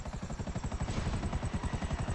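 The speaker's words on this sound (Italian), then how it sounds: "Siamo in elicottero" A helicopter in the video game GTA thrums with a fast, even rotor chop, a steady pulsing beat that continues without break at moderate loudness.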